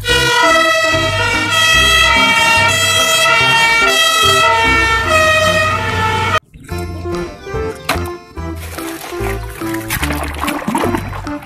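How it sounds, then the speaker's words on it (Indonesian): A toy fire ladder truck plays a loud, continuous electronic siren with music-like tones for several seconds, then it abruptly changes to a busier, noisier stretch of toy sounds; no speech is heard. "Widih, mobil tangga pemadam kebakaran."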